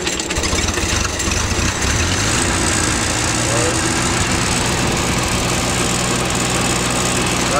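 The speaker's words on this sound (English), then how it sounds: "The engine sounds pretty good. Idles down really nice." A Cub Lo Boy 154 tractor engine runs close and steady, then settles into an even idle, a continuous loud chugging with voices talking over it.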